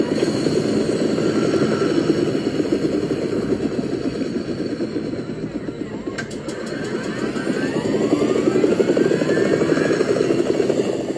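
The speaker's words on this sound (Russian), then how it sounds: "Кто-то на вертолете улетает или что?" Helicopter flying away in a video game, heard as a steady, loud rotor and engine drone that runs for the whole stretch, with a brief sharp click partway through and no talking.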